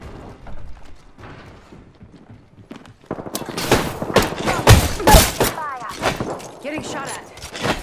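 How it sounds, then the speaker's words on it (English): Gunfire in the shooter Apex Legends: after a few quiet seconds, dense rapid bursts of shots crackle close and loud, with overlapping volleys and metallic mechanical clatter continuing to the end. "Getting shot at. I'm taking fire."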